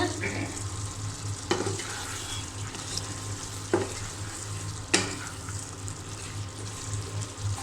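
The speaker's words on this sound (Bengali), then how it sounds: "এইখানে যে কলিজা আর আলু কষানো হচ্ছে।" Liver and potatoes stir-fry in a pan with a steady, close sizzle, broken by several sharp scraping stirs and clinks of the spatula.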